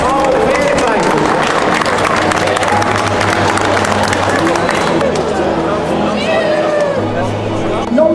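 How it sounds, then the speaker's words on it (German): A crowd at the Hero Fest, an outdoor football tournament, applauds and cheers steadily throughout, a dense wash of clapping mixed with babble and shouts. "Zuerst einmal bitte einen grossen Applaus vom Hero Fest"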